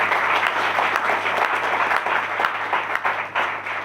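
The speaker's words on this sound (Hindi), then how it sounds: "चाहूंगा एक बार जोरदार तालियां होंगी।" An audience at a business recognition event bursts into loud, sustained applause, a dense wash of clapping hands that carries on steadily throughout.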